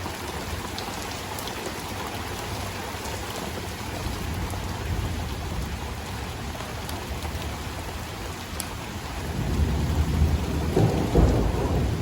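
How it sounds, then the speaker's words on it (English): Heavy rain pours steadily with low rumbles of thunder rolling underneath, growing louder and fuller near the end. "it's a lot of rain. It's like angry rain."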